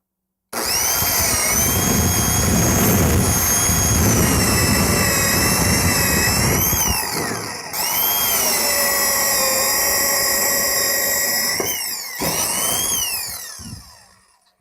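Power drill boring a sideways horizontal hole through a wooden wall stud during plumbing pipe installation, whining steadily and loudly for several seconds, slowing briefly twice, then stopping; close up, no voices.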